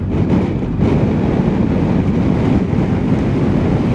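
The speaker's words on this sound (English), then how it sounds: "It is really windy today." Strong wind buffets the microphone during a motorcycle ride in Finland in a constant low roaring rumble with gusty surges, loud and close, no voices.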